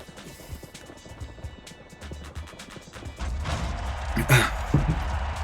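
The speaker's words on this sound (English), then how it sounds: "The horses are on the track." Racehorses gallop in a replay of a simulated Belmont Stakes race, with rhythmic clip-clopping hoofbeats that grow louder and denser midway, joined by a few sharp thumps, and no voices.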